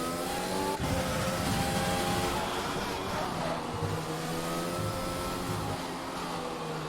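A Formula 1 race car on a flying lap of Singapore's Marina Bay street circuit in an F1 game, running on medium tyres, its engine droning and rising in pitch through the gears, steady and close with no talk.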